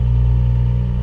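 A Porsche 718 Cayman GTS 4.0 idling with its variable exhaust opened, a steady, loud, deep engine drone held close and even for a moment, with no speech.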